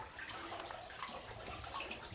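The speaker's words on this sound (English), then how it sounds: "look at this water dripping here" Water dripping and trickling inside a flooded old mine from 1878, a faint wet patter with scattered drops echoing in the enclosed space.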